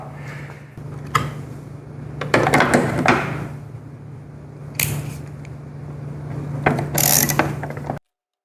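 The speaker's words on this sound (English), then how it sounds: "I may even use my adjustable wrench on this" An adjustable wrench works on the terminal screws of a dryer power cord, producing close metallic clicks, ratcheting scrapes and sharp clanks in irregular bursts over a low steady hum, with no talk.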